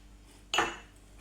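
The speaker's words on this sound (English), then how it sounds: "we're going to start by mixing the egg with the sugar, the milk" A single sharp clink of a utensil against a mixing bowl while egg, sugar and milk are being combined for crumpet batter, brief and fairly close, with a short ring fading over the quiet room.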